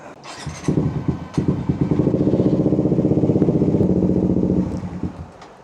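A Suzuki GSX 150 motorcycle fitted with an aftermarket exhaust on the stock ECU, close and loud, coughs through a few uneven revs, settles into a rapid chugging idle, then fades out as it stalls.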